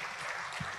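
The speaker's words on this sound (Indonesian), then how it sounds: "Tepuk tangan." A short burst of audience applause at a business industry-outlook conference in Indonesia: dense, steady clapping lasting under a second, heard alone.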